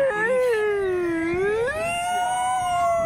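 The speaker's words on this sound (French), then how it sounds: "Vous entendez comment ça sonne les ambulances en Espagne?" A Spanish ambulance siren wails loudly and close by, its tone sliding down and then climbing to a steady high pitch as the vehicle passes, with no talking over it.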